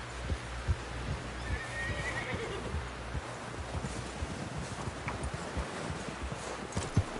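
A horse in the Red Dead Redemption 2 video game clops along with regular hoofbeats and gives a clear whinny partway through, over a soft outdoor wind bed.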